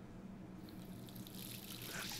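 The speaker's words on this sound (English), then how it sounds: "She just splashed her face." Water splashing onto a face in the video game Life Is Strange, a steady running, tap-like wash of water that builds slightly toward the end, heard alone without talk.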